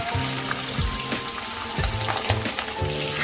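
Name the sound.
aar fish frying in hot refined oil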